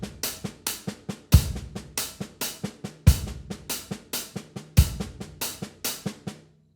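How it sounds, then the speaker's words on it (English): Cha-cha groove on a drum set, demonstrated in a drumming masterclass: crisp repeating hits with regular accented kick-and-snare strikes every bar, steady and close, with no talking. "Cha-cha. This is invisible rhythm number 6."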